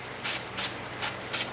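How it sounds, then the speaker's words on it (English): Brake parts cleaner sprayed onto a V-Twin engine in four short, loud hissing bursts at a regular pace, close up, with no talking. "when you buy a brake parts cleaner yourself, spray it on there and let it sit for a second"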